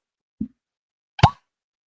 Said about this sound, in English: Let's get a cork pop.